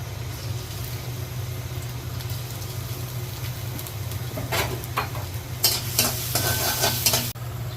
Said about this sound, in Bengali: সরিষার তেল দিয়ে দিচ্ছি আমি এখন পেঁয়াজ কুচি দিয়ে দিচ্ছি